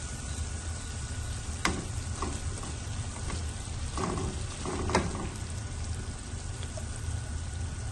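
Chicken koftas drop into hot frying masala and sizzle steadily, a continuous crackling hiss punctuated by a few sharp clinks and splashes as pieces go in.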